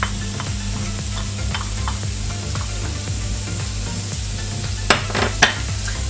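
Onion sizzling in olive oil in a hot frying pan, a steady close crackling hiss with occasional stirring scrapes and a couple of sharper pops near the end.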